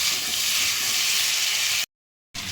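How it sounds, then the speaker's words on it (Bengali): Potato and taro pieces fry in hot oil with a steady, close, bright sizzle that drops to silence for a moment near the end before resuming. "এটা ওর সাথে ভেজে একবারে তুলে নেব আলু আর কচুটা"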